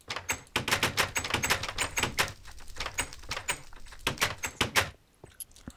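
Doors and a trapdoor in Minecraft being opened and shut over and over, a rapid run of sharp wooden clicks and clacks that trails off into quiet near the end.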